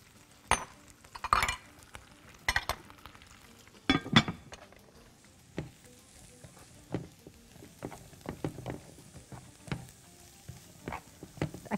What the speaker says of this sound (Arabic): اتاكد ان هما اتشوحوا كويس والريحه ابتدت تطلع